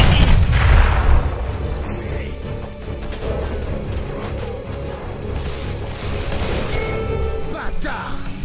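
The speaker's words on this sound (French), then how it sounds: "Faites gaffe, grenade!" A heavy grenade blast in Call of Juarez: The Cartel gives a loud boom at the start, followed by crashing debris and scattered gunfire rumbling on at high volume.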